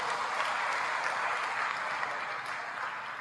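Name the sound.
church congregation applause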